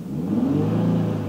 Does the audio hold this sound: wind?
no